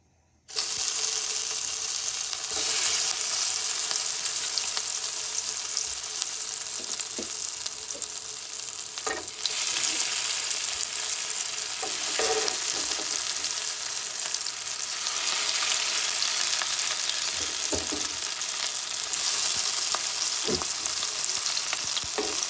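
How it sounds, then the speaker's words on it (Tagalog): Shrimp rolls in lumpia wrappers fry in hot oil, a loud, constant sizzle that starts abruptly and holds for over twenty seconds, with occasional faint clinks and stirring. "So, next step is, pipritohin na natin siya."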